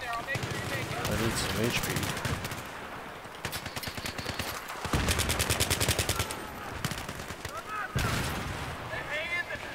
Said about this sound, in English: UMP-45 is a dominating weapon in Battlefield, Battlefield 3.